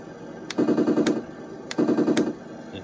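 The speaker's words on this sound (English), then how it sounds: "This button is your machine gun." A Heng Long M1A2 Abrams RC tank plays its machine-gun sound effect in two short rapid bursts of electronic rattling fire. Each burst opens and closes with a sharp click, heard close up with no talking.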